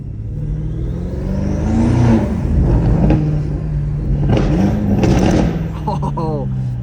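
Straight-piped BMW M5 engine rumbling loudly and revving through gear shifts, pitch climbing and dropping with throttle lifts, with a person talking over the engine noise.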